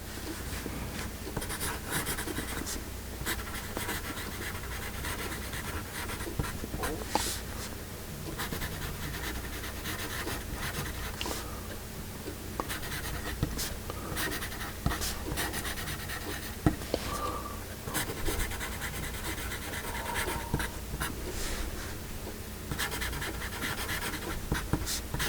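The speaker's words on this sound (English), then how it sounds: "we'll do a little writing here with this" A Dixon Oriole HB pencil writes steadily on paper up close, a continuous scratchy graphite stroke with small irregular bursts and no talking.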